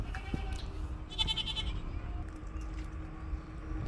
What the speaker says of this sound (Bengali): গৃহস্থের ছাগল খাবার খুঁজতে পানির আশেপাশে ঘোরাঘুরি করছে।